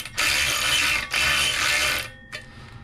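A ratchet tightens the bolts on a MINI Cooper S R56 intercooler, giving two long bursts of rapid close clicking followed by a brief final spurt.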